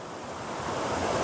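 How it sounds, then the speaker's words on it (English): Steady rushing of water mixed with wind noise in the mountains, a continuous broadband wash that swells slightly louder toward the end. "sound of water,"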